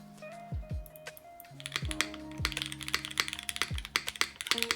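Rapid, clacky keystrokes on an ORI CLS-3 65% mechanical keyboard, close and clear, building from a few taps into a dense, steady typing rhythm, with low background music under it.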